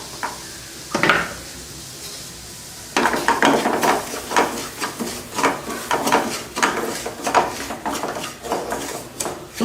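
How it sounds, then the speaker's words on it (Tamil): Semolina (rava) roasting in ghee in a pan for payasam, a steady dry crackle and sizzle broken by repeated scraping stirs of the spoon against the metal, close and moderately loud with no voices. "அதே நெய்யில் ரவை வறுத்துக்கலாம்"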